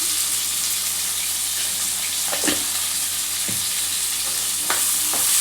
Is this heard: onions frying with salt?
yes